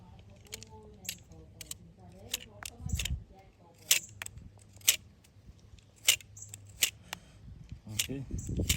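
A blade cuts a mango scion for grafting, making a series of sharp clicks and snips spread across several seconds, close up, while someone talks throughout.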